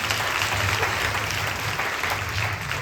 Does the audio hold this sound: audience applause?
yes